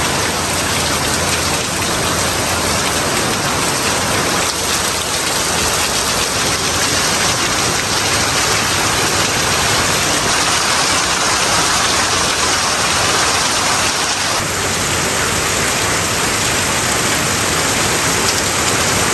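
Heavy rain pours steadily on a rainy Monday in Jamaica, a loud, dense, unbroken hiss of drops on surfaces that holds constant throughout with no voices.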